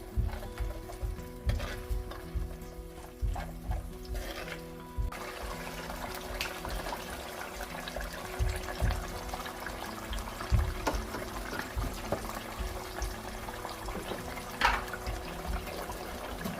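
Ginger garlic paste fries in oil in a pan, a steady low sizzle running throughout with occasional stirring scrapes and clinks, and a brief brighter spattering burst near the end.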